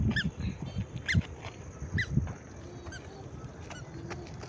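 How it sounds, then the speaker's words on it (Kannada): An eagle overhead gives a string of high, thin, repeated 'kee' cries from a distance, spaced about a second apart over a low outdoor rumble. "ಏನದು ಸೌಂಡು? ಕೀ ಕೀ ಕೀ ಅಂತ ಬರುತ್ತಂತೆ."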